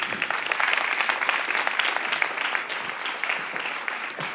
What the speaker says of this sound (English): So big applause for Sigrid Kaag